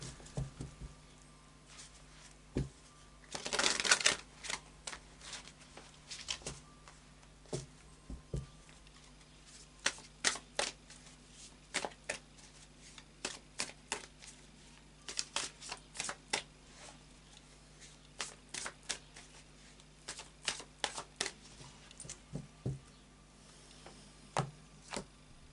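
Tarot cards being shuffled and cut produce an opening burst of riffling followed by many short, crisp slaps and pats of cards, close and quiet against a low steady hum.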